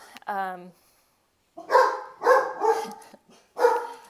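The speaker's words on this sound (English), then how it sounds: "whenever I do one of these, my dogs start barking" Pet dogs in a home bark in a quick series of sharp, fairly loud yaps after a brief higher whine, the barks clustered in short bursts with pauses between them.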